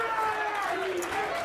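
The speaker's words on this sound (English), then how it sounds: "Crowd chanting TJ" A poker tournament crowd chants TJ Cloutier's name after his bold raise at a World Poker Tour Legends of Poker table: a steady, sustained wash of many voices in unison, loud and continuous throughout.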